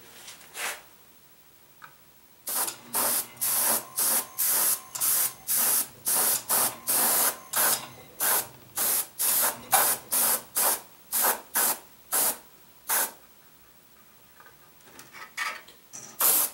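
An airbrush driven by a small quiet compressor sprays paint onto a model building in about twenty short, evenly spaced hissing bursts that start and stop sharply, loud and close.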